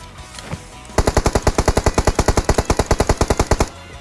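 Automatic gunfire in the mobile battle-royale game PUBG Mobile: a couple of isolated shots, then a fast, evenly spaced burst of about twenty-five loud, close rounds before it stops abruptly.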